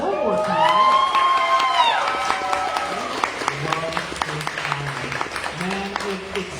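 An open mic audience applauds and cheers for a first-time reader, loud clapping and whoops at first, then thinning to scattered claps as a voice talks over it.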